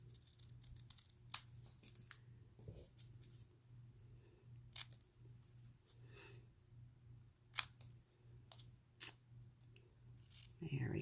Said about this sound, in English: just going to trim these up a little bit, trim off the ends